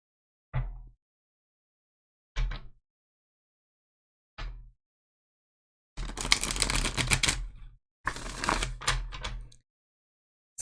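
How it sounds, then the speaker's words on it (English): A tarot card deck being shuffled by hand: three short, soft riffling taps, then two longer, louder bursts of dense card flapping, close and with no talking. "let's shuffle our tarot deck."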